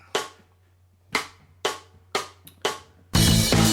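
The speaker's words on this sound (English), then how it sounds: "So, here's the backing track" A minor backing track for guitar practice, opening with five sharp, evenly paced percussive hits over a low hum, then breaking into a full, loud band groove near the end.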